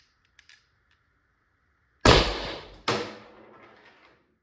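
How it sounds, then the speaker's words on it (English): An unsilenced Umarex HDP50 pistol fires, with two loud sharp reports close together under a second apart, each trailing off in a short ringing decay after a quiet start. "let's test fire this thing. Okay, 3 shots, unsilenced"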